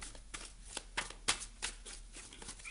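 Tarot cards are shuffled and drawn close by in a quick run of crisp flicks and riffles, about seven sharp bursts spaced unevenly over a faint hiss, with no talking.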